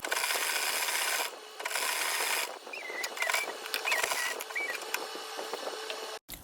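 Needle and thread pulled through crinoline and fabric while hand-sewing a structured cape, giving soft continuous rubbing and rasping strokes at close range, with brief pauses between pulls and no talking.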